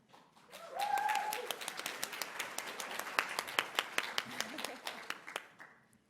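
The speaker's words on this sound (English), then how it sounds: "from that round of applause" A round of applause at the Victorian Homelessness Media Awards greets the radio MC, swelling quickly into broad crowd clapping with a few sharper near claps standing out, then thinning toward the end.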